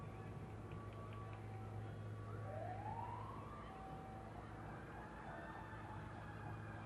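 At the front of a 1991 Memorial Day parade in Royal Oak, Michigan, police and fire vehicles sound a distant, faint siren that rises and wails over steady crowd and street noise.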